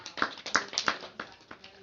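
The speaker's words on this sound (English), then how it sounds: "a round of applause for Julia Donaldson and Axel Scheffler" A small group of young children claps after storytime, a sparse, uneven round of a few distinct claps spaced out and fading, heard fairly faint in a quiet room.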